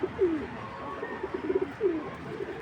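A racer pigeon coos nearby, two soft rolling calls over a faint background hum.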